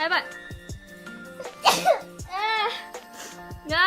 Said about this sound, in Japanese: くしゃみ出ちゃった。